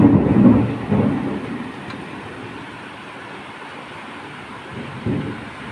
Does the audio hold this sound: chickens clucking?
no